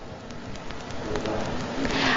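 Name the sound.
rain falling outdoors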